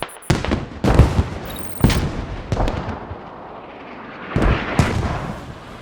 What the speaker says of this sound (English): being hammered themselves by the Team France mortars